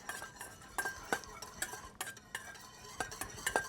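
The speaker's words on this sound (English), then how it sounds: "I'm going to give a little mix here to our salad" A salad is tossed and mixed in a bowl with utensils, giving quiet, close scraping and light clinks in an uneven rhythm.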